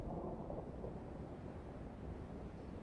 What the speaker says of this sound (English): Man, listen to that storm in the background.